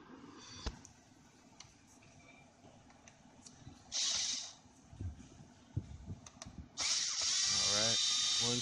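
A power drill backs screws out of a Toyota Tacoma steering column, heard in two short whirring bursts near by with quiet clicks and handling noises and someone talking in between.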